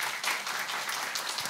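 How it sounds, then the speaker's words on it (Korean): Congregation applauding during a church service installing a senior pastor, a brief burst of many hands clapping steadily at moderate volume with no voices over it. "축하의 박수를 쳐드리겠습니다."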